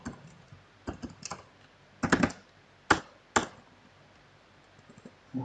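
Keys clatter on a computer keyboard as PHP code is typed: uneven bursts of clicks with a few sharper, louder strokes, close and clear against a faint background hiss, with no talking.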